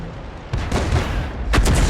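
Heavy booming Sturmpanzer II artillery gunfire in a game: a deep blast about halfway through, then another sharper, louder shot near the end, with rumble lingering between.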